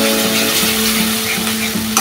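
Almond paste frying with katla fish in a pan, giving a steady close sizzle with faint stirring scrapes throughout and no talking.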